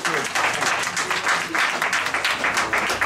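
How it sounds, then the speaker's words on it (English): Audience applause at a live event: a dense burst of clapping from a crowd, loud and close, sustained with a few pulsing swells for a few seconds, no clear speech over it. "Sam Heitner, can we give him a round of applause, please?"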